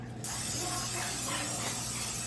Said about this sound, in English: So I have olive oil spray.